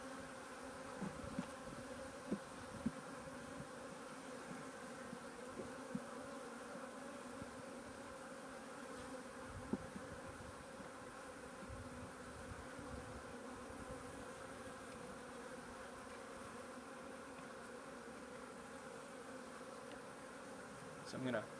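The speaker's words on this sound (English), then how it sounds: "this bee is fanning right here at the end of my finger, and they're trying to find the queen" Honeybees from a newly installed package buzz and fan in a dense, steady drone that fills the whole stretch, with the swarm close by and occasional louder individual passes.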